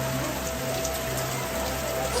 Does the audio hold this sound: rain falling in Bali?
yes